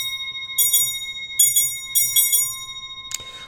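Sampled mallet idiophones from the Sonokinetic Idiophones library ring out in a few clear, bell-like struck tones over a steady sustained hum, with a short noisy burst near the end.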